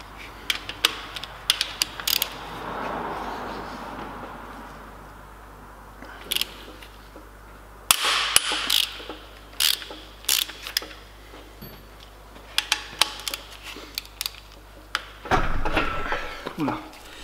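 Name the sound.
ratchet loosening cylinder head bolts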